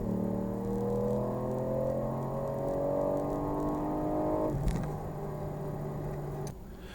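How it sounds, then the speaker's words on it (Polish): Ford Puma ST 1.5 EcoBoost engine pulling steadily under load, then a quick gear change without lifting off, the drone dipping and continuing; heard from inside the cabin, moderately quiet. "biegi można bić bez upuszczania gazu, czyli tak zwany flat shift"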